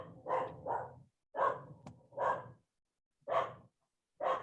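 A dog barks in spaced bursts, five or six loud close woofs, some in quick pairs, separated by short silent pauses.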